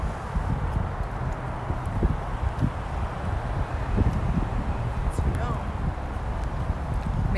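Strong wind in Sacramento buffets the microphone with a constant roar, with faint thumps and rustles underneath and a voice briefly talking.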